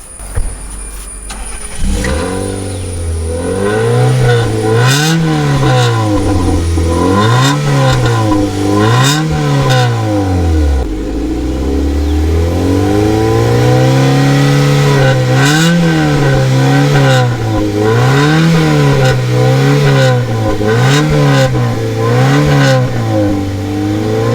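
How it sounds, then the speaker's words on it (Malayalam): A modified Chevrolet Beat's exhaust note, revved repeatedly: loud, close rises and falls in engine pitch, several blips in a row followed by a longer sustained rev and more blips, with no talking. "ഇനി നമുക്ക് ഈ ഒരു വാനത്തിൻ്റെ എക്സോസ് നോട്ടിൻ്റെ സൗണ്ട് ഒന്ന് കേൾക്കാം"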